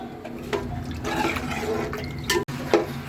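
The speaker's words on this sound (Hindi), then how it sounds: "इसमें हमने 1 जग पानी शामिल कर दिया है।" A jug of water poured into a cooking pot for pulao with green chillies, a steady splashing, gurgling flow over several seconds with a brief break near the end.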